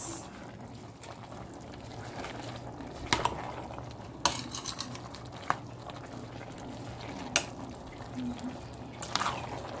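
A spoon stirs raw keema with green chillies, cloves, salt, ginger-garlic and turmeric in a cooking pot, giving scattered metallic clinks and soft scraping over a quiet kitchen background.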